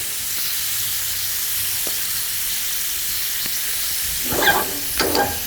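Peri peri chicken livers sizzling in a frying pan: a steady, loud, hissing fry throughout, with a couple of brief stirring or flipping scrapes near the end.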